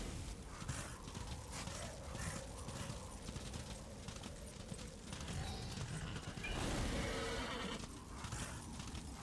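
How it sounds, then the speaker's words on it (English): A horse gallops in the video game Darksiders, with a continuous rapid clatter of hooves under rumbling game ambience and effects, rising briefly in loudness partway through. "I know I'm on a horse so I can move a lot faster across distances"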